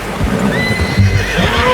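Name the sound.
horse neighing in a video game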